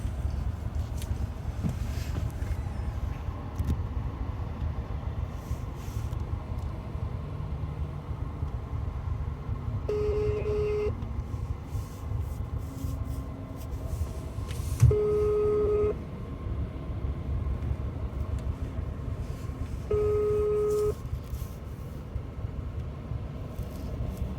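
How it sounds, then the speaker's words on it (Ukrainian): A Ukrainian delivery courier's phone call goes unanswered as a faint electronic ringback tone repeats about every five seconds, heard over steady car cabin rumble with no talking. "так уже третій раз дзвоню"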